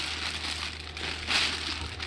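Styrofoam packaging from a Salem Master 6220G saw box crumpled and crushed outdoors near chickens, giving a steady crinkling texture with a brief louder crunch partway through.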